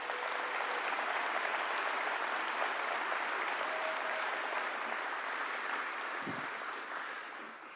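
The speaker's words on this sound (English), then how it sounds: "Let's give all of these people a round of applause." Steady applause from a crowded banquet room at a political fundraising dinner, honouring the security and wait staff, a dense even wash of clapping that holds throughout and tapers slightly at the end.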